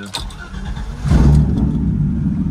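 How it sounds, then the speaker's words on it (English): A car engine cranks briefly and catches, then settles into a loud, close, steady idle rumble heard from inside the vehicle. "Let's start my car."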